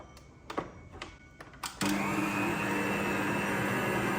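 An electric mixer blends batter with a cup of yogurt for basbusa: a few sharp clicks, then the motor kicks in with a loud, steady whine and hum that holds to the end.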